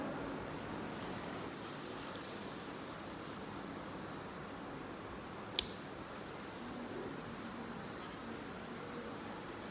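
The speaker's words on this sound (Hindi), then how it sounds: "पानी बहने की आवाज़ है ना," Water flowing steadily somewhere close by, an even broadband rush, fairly faint, with one brief sharp knock about halfway through and a softer tick near the end.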